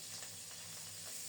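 Rohu fish pieces sizzle steadily in hot oil in a pan, a soft, continuous crackling hiss with no voices.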